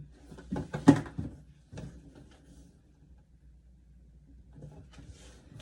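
A drawer box holding Bape x Bored Ape Yacht Club shoes slides open with a quick wooden knock and rattle, followed by softer handling sounds in a quiet room.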